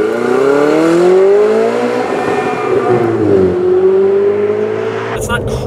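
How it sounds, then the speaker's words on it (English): A Ferrari 488 Spider's engine revs and pulls while driving, a loud, close, continuous tone that climbs, dips and climbs again, ending with a brief clatter. "Let's drive the 488."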